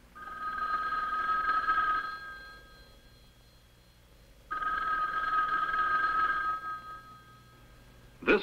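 A conventional telephone bell in a farm kitchen rings in two long trilling bursts separated by a pause, loud and close, with no talk over it.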